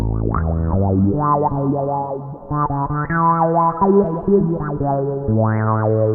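A bass guitar plays a short melodic line through a Ghost multi-effects pedal preset, with sweeping, wah-like filter swells and a slight echo on each note.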